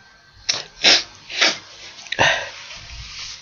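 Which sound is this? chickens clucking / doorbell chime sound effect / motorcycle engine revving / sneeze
sneeze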